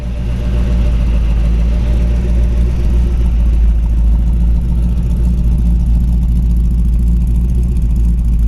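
A 1932 Ford roadster with a 385 fast burn engine idles steadily nearby, a loud continuous low rumble with an even, unchanging tone and no voices.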